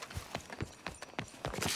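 Horse hooves clip-clop in a steady walking rhythm on a mare in Red Dead Redemption 2, a Wild West game, close and moderately loud with no talk.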